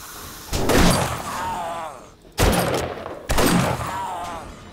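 Three heavy lever-action rifle shots in 7 Days to Die boom at uneven intervals, each with a ringing, echoing tail, and a voice is faintly audible beneath them.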